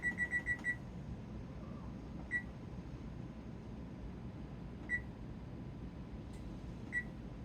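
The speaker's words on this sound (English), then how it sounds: "Cook them for 30 minutes, and I'm going to set a timer." A kitchen timer gives a quick run of four or five sharp beeps as it is set for cooking pinto beans, then single beeps at spaced intervals over a faint background hum.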